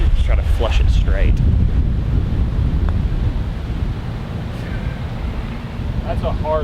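Steady wind buffets the microphone on a golf course in wind and rain, a loud low rumble running throughout with brief voices near the start and end.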